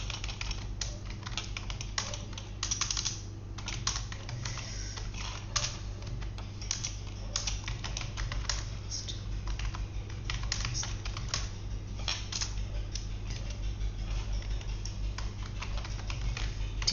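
Steady rapid clatter of computer keyboard typing, dense fast keystrokes running continuously at close range with no voices, over a constant low hum.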